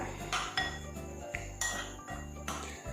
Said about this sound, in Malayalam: അപ്പോൾ ഇനി നന്നായിട്ട് അതൊന്ന് മിക്സ് ചെയ്ത് കൊടുക്കാം.